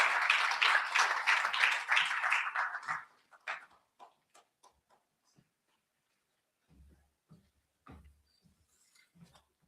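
A burst of audience clapping at a youth festival for a speaker coming to the podium, lasting a few seconds, fades into scattered claps and small knocks, then near quiet.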